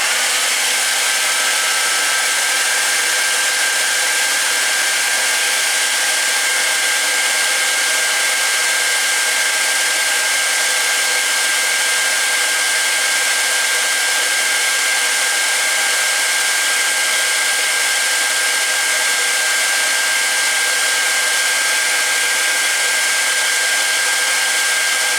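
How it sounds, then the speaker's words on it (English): A hairdryer serving as the heat source for an Arduino PID controller with a servo blows a loud, continuous, unchanging whoosh for the whole stretch, close and alone, with no voices. "So let's see what happens when we turn on the hairdryer."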